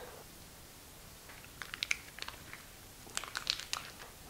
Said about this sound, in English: I'm just gonna take my sharp knife, cut through the end.